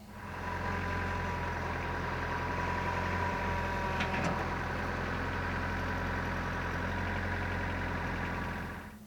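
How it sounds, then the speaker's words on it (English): Tractor engine idling steadily and close by while it backs in to hook up to a Land Pride Quick-Hitch, a constant low rumble with a brief clank near the middle and no talk. "And now we will back the tractor in and show you how to hook it up."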